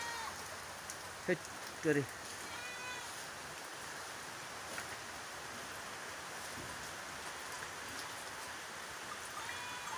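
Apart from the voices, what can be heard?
rain falling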